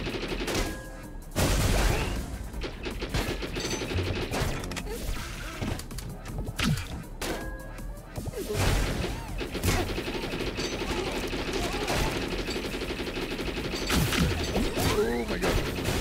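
Machine gun fire rattles through a busy scene in the video game Alien Hominid Invasion, a dense continuous barrage of rapid shots mixed with crashes, clanks and other game effects, fairly loud throughout.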